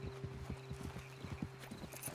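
Horses walking at a steady clip-clop in Red Dead Redemption 2, hooves falling in an even, repeated rhythm close by with a low drone underneath and no talk.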